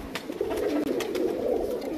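Pigeons being readied for the season coo in a close, steady chorus of soft rolling throbs with light rustling, continuous for the whole moment and without speech.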